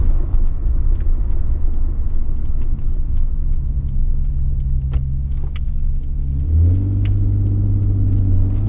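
Low rumbling engine of a vintage Datsun/Nissan Z sports car heard from inside while driving, steady hum that deepens and shifts pitch as the engine note changes.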